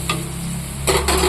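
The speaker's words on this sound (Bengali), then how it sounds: "এখানে ভাজা করছি, ভাজা করে নেব" Ash gourd pieces frying in a pan, a steady hiss with scraping stir strokes at the start and a louder burst of sizzling and stirring near the end, no voices.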